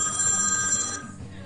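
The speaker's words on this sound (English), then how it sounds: "We have another phone call." Telephone ringing with a bright, sustained electronic ring tone that plays loud and steady for about a second, then cuts off abruptly, leaving faint background hiss.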